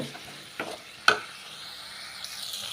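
Drumstick leaves sauté in a pan with a soft sizzle, punctuated by two brief clattering stirs close by.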